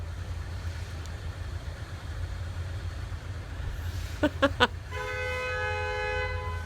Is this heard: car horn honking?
yes